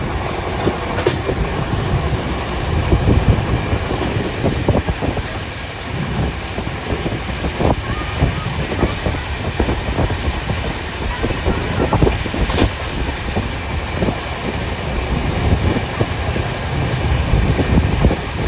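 The Darjeeling Mail passenger train runs from Kolkata toward New Jalpaiguri, with a steady loud rumble and rhythmic clickety-clack of wheels on rails, mixed with wind noise, continuous throughout.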